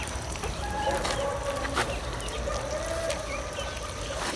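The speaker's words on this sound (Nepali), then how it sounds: "ह्याचरीबाट यतिकै चल्ला ल्याएको रहेछ" Hatchery chicks chirping in a steady, dense chorus of high peeps, close by, over continuous background noise throughout.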